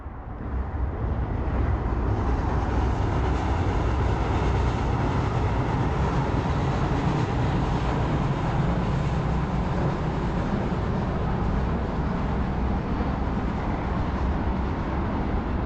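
Tyne Metro train crossing the Queen Elizabeth II Bridge between Newcastle and Gateshead, heard as a loud, continuous broadband roar and rumble that holds steady throughout, with no talk over it.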